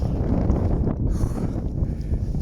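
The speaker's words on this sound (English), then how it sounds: "It's a bit windy, so you probably can't hear me" Strong wind gusting across an open hillside in the Lake District, buffeting the microphone with a steady, heavy roar throughout, no voices.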